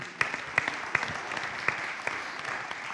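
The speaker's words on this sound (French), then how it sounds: "On applaudit nos intervenants," Applause from a conference audience at an industry-of-the-future event, a steady patter of many hands with several sharp, close claps standing out, moderately quiet overall.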